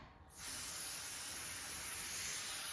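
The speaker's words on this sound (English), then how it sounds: "now I'm going to spray the next section" Spray adhesive hisses steadily from an aerosol can while a quilt is being basted, starting abruptly after a brief pause and continuing as an even, close, moderately quiet spray.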